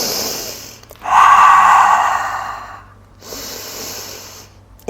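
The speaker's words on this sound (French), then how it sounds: "Je respire dans la poitrine." Heavy breathing while holding a plank: a long, loud, forceful exhale through the mouth, a quiet pause, then a second softer breath, close up with no talking.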